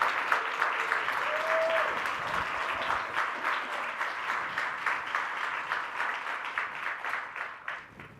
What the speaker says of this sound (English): Please give them one more big round of applause.